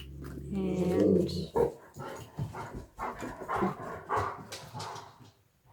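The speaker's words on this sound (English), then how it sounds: "I don't know if you heard that growl." A dog growls and barks beneath a craft table indoors, a short low rumble and bark near the start, followed by someone talking steadily over it.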